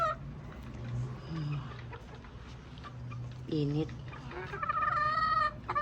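Hens clucking and squawking close by, with several harmonic calls rising and falling, while a person talks briefly over them.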